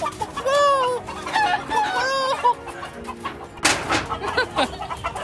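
Several chickens on a farm cluck and squawk close by in rising, warbling calls, followed by a burst of scuffling noise as they are chased, and more scattered clucks.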